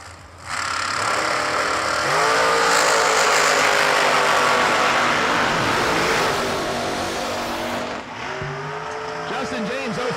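A blown dragster and another car launch side by side down the drag strip at a New Year Nationals event, a loud, sustained engine roar that swells and then fades as the cars pull away.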